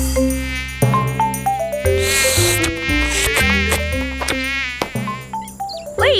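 Animated insects buzz and whine through a cartoon forest, close and continuous, layered over bright musical tones and chirps with no talking.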